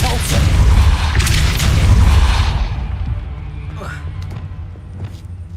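A Depulso spell blast in Hogwarts Legacy lands as a heavy booming thump with a low rumble that fades over a couple of seconds, followed by faint magical swishes and someone speaking around it.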